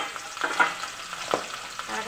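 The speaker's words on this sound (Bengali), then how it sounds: "তার জন্য টুকুতে মাছ দিলাম কড়াইতে" Fish sizzling in oil in a kadai (wok), a steady close crackle and hiss with a few sharper spits and pops, no talking.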